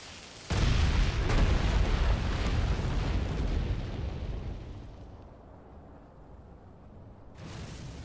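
A feline barrel bomb blasting apart a volcanic rock boulder in Monster Hunter Stories 2 lets out one loud, close explosion that rumbles on as a long roar, fades into a low tail, then swells slightly near the end.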